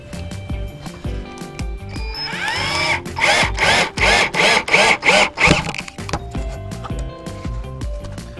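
A power drill drives screws through old barn wood boards into back supports, with a short spin-up followed by a rapid series of half-second whirring bursts and quiet knocks of wood handling between them.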